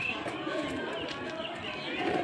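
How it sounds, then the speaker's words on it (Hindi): A cautious pet pigeon coos in soft, repeated throaty calls, close by, mixed with faint chirps and a voice talking over it. "ये काफ़ी सियाना कबूतर है"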